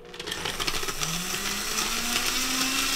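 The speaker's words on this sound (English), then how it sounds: "The machine does start and stop, so it will go really loud and then it'll go down and it'll come back up." A nut milk maker blends almond milk with a steady, loud whirring motor, the pitch rising gradually as the blades spin up, running continuously without pause.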